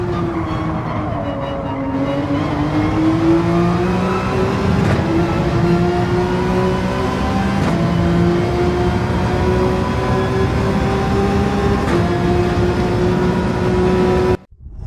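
A race car in Gran Turismo 7 accelerates around the Brands Hatch circuit, its engine note climbing steadily through the revs with a few brief gear-change dips, loud and close without any talking, before cutting off abruptly.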